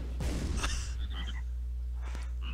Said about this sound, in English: Ah, the frogs!